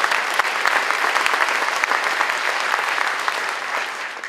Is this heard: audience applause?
yes